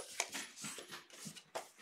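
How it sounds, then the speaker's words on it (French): A dog plays with its small toy indoors, producing faint, scattered bursts of scuffling and soft whimpering noises over about two seconds in a quiet room. "mon chien vient de trouver son petit jouet"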